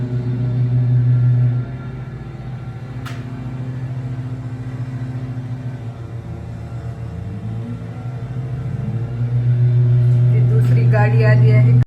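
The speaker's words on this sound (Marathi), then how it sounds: "ही बघा, ही कचरा गोळा करण्यासाठी गाडी आलेली आहे" A garbage collection vehicle arriving, a loud low engine rumble that dips then swells again as it nears, with a voice speaking over it.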